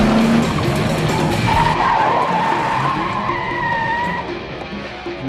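A Mexican federal police car brakes hard on a driving course, its tires squealing in a long rising skid over loud engine and road noise, close by.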